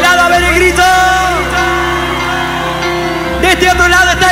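Concert crowd at the Cosquín Cuarteto 2024 festival shouting over loud live music, a sustained roar of many voices with louder surges near the end.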